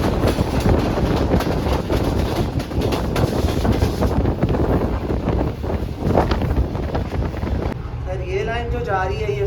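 Train passing close by on the Sangla–Kundian branch line in Pakistan, a steady loud rumble with wind buffeting the microphone, then the sound thins out near the end.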